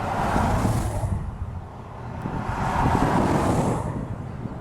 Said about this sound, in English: it's gusting out again